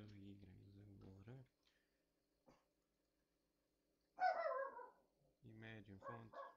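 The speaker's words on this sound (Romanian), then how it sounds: "câinele meu latră" A dog barks twice in short bursts, somewhat distant, between stretches of someone talking close up in a quiet room.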